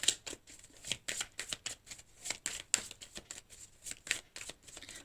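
Tarot cards shuffled by hand in a quick, continuous run of crisp riffling flicks and slaps, close and fairly quiet, with no talking.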